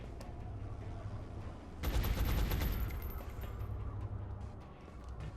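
Gunfire in the XCom video game: a short, loud volley of shots bursts out after a low ambient rumble, then fades back into the quiet background hum.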